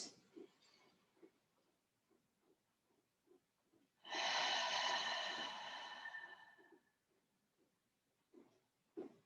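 A person takes a deep breath during chair yoga, with one long, close, rushing exhale standing out in a quiet room. Faint soft sounds come before and after it.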